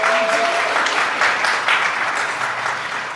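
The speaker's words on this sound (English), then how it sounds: "Round of applause for Chiagozi." An audience at a maternal health conference claps in a dense, steady round of applause that slowly tapers off, with no talking over it.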